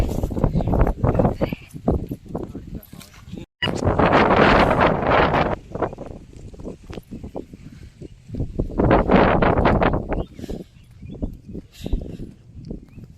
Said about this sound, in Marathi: वाऱ्याचा सुद्धा आवाज येतोय.